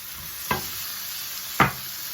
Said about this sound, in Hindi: 2 मिनट मैंने इसको स्टर फ्राई कर लिया है।